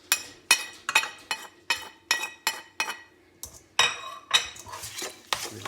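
Chicken being mixed with spices for chicken tikka, a rhythmic run of close metal-on-bowl clinks and scrapes, roughly two strokes per second, with no talking.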